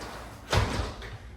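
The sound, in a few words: door shutting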